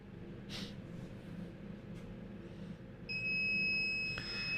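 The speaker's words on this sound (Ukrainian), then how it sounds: "Після того, як спрацював таймер" A mug heat press timer set for about three minutes at 190 degrees goes off with a steady high electronic beep tone near the end, over a low background hum.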